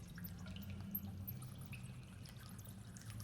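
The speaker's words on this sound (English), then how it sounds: "You hear nothing but the sound of water and the echo of your own breathing" Ambient effect of water dripping deep inside a well, very faint and distant, with sparse soft drips over a low hollow rumble.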